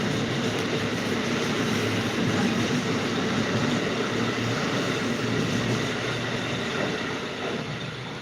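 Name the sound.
passenger train passing at night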